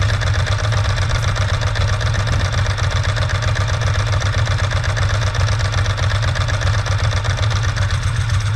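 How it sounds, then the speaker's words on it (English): A 2001 Ducati S4 idling with its dry clutch disengaged, a loud close engine pulse overlaid with a continuous metallic rattle like a bag of nails. "has a dry clutch, so when the clutch is not engaged they sound like a bag of nails, and here's a demonstration of that"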